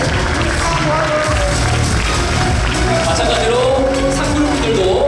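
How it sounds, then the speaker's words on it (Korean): Ceremony audience at a grand opening event claps and cheers in a loud, sustained crowd roar while an announcer's amplified voice speaks over it. "여러분 커다란 박수와 함성으로 축하해 주십시오."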